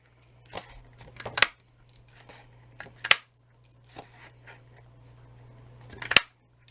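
Scissors snip through Wisteria Wonder cardstock while shapes are cut out, a few crisp close cuts arriving in irregular clusters over a faint steady hum, with quiet rustling between them.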